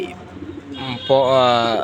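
Pigeons coo nearby in low, rounded calls, with one stronger cooing phrase swelling in the second half over faint background noise.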